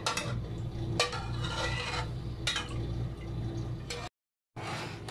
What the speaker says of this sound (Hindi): बस इसको बस हलाते रहना ताकि ये नीचे ना लगे, आराम से बस इसको पकाते रहना हल्की आंच पे